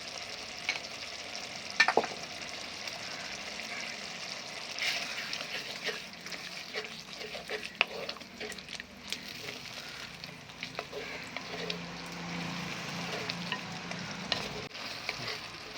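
Turmeric powder sizzles and fries in a pan while a Malayalam-style pepper mackerel curry masala cooks, a steady broad hiss with occasional stirring scrapes and clinks throughout, close and moderately loud, with no talking.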